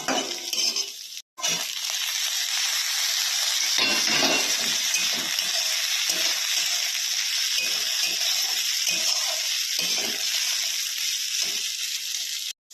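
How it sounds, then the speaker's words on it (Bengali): Mixed vegetables with turmeric fry in a pan for a vegetable dal, giving a loud, continuous sizzle close by, with a few brief breaks and occasional utensil clinks. "সবজিগুলো ভাজা হয়ে গেছে, এবার আমি সবজিগুলোকে তুলে নেব"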